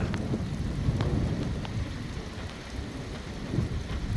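A strong thunderstorm over rural Nebraska brings steady heavy rain pelting surfaces, with a deep continuous thunder rumble underneath.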